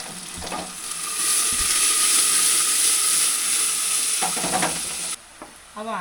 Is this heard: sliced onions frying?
yes